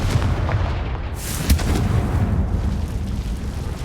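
A Confringo blasting spell explodes in the Hogwarts Legacy video game, a heavy low rumbling boom with a sharp burst near the middle, loud and close, fading into a lingering roar.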